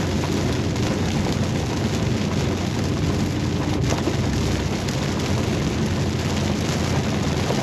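Heavy rain drums steadily on a moving car during a storm, a dense, constant roar of drops on the roof and glass with road noise underneath, no voices.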